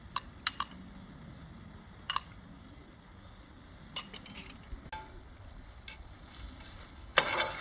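Spices being stirred into boneless chicken frying in a pot for biryani, with a soft steady sizzle and several sharp utensil scrapes and clinks against the pan.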